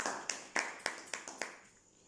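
Applause at an RCM home meeting: roughly six sharp, evenly spaced claps, faint and fading toward the end, with no talk over them.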